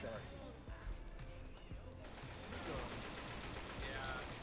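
Rapid gunfire in Left 4 Dead 2 as a player shoots at a gas can, a steady dense burst of shots layered with game effects and background noise throughout.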